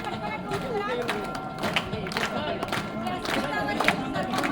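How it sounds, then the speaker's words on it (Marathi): A crowd applauds at a school principal's retirement felicitation ceremony, with dense, continuous clapping mixed with crowd voices and chatter and no clear pauses. "जोरदार टाळ्यांचा कडकडाट होऊ द्या."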